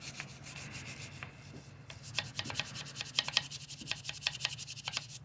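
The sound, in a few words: brush scrubbing a car wheel with cleaner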